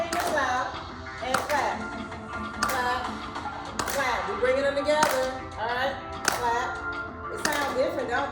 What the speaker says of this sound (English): This time I want the fingers to hit the fingers, okay? So you're gonna spread your fingers out and clap.